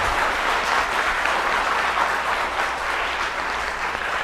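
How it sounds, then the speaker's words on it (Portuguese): Applause fills a city council chamber, a dense, steady wash of many hands clapping at moderate distance that continues for several seconds without a break. "Eu fico envergonhado de ter recebido essa salva de palmas"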